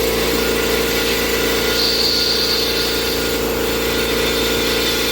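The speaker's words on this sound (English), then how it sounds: "my sandblaster's been acting up, so sometimes I gotta tap the gun on the edge of the wall here" A sandblaster strips a thick coating from aluminum, a loud constant blasting hiss with a steady compressor drone beneath it that continues without a break, and no talking.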